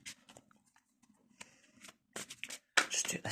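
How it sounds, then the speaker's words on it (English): Tarot cards shuffled by hand at a table, scattered riffling and sliding bursts that grow denser and louder toward the end, close and alone. "I'm not the best card shuffler"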